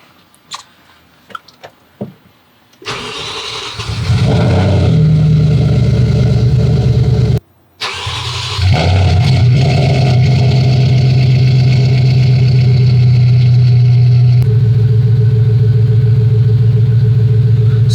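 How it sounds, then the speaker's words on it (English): An Audi S4 starts from cold on a chilly day: a few quiet clicks, then the engine catches with a loud burst, cuts out briefly, fires again and settles into a steady, high, loud cold idle that eases slightly near the end. "I'm gonna go ahead and turn on the car for the first time in a while"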